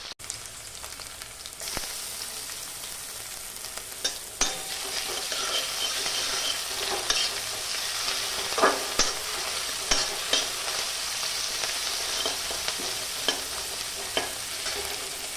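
Chopped onions frying in a little oil in a pan for a pumpkin, pointed gourd and potato curry: a continuous bright sizzle swells after the first moments, with intermittent scrapes and clinks of a stirring spoon, close up and without voices.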